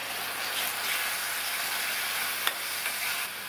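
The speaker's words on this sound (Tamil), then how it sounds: "இந்த தக்காளியும் நல்லா வதங்கி வரட்டும்" Blended tomato frying in a pan for a coconut-milk mushroom curry, with a steady, fairly quiet broadband sizzle throughout and one faint clink near the middle.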